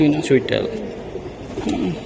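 Pigeons at a pigeon market coo in short throaty bursts, close by and mixed with people talking.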